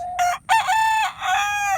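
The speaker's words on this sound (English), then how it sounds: "we got a noisy rooster." A rooster crows nearby, one loud, full cock-a-doodle-doo in several bright, strained segments, heard alone.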